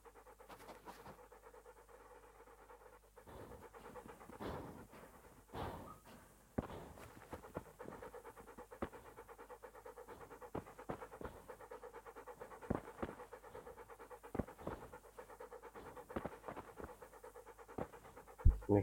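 Dog panting and sniffing in the video game Kingdom Come: Deliverance, a steady breathy rhythm with scattered footstep-like scuffs and brief scratches, fairly quiet throughout with a few sharper bursts.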